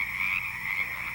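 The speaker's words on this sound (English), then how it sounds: "That, my friends, is the sound of thousands of frogs in Pritchard Park down in Rainier Beach." Thousands of Pacific chorus frogs croak together in a city park in Rainier Beach, a dense, continuous chorus of overlapping calls with no voices.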